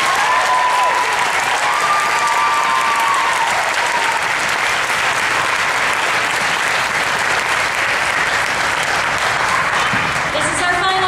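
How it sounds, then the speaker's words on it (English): Sustained applause from a high school theater audience at a Sound of Music senior recognition, a dense wash of clapping that stays loud and steady throughout, with faint voices mixed in. "Please give them one more round of applause."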